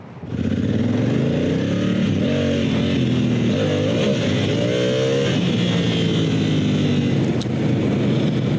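Dual sport motorcycle fitted with Shinko E-804 and E-805 adventure tires, engine droning loud and steady up close as it rides out, pitch rising and falling with throttle.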